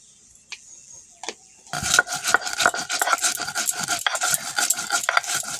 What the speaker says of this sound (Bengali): জিরে মরিচ একসাথে বেটে নেব